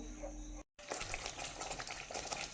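Kaju masala cooks over a medium flame, giving a faint, close bubbling sizzle with light stirring, cut by a brief silent gap early on before the soft simmering resumes.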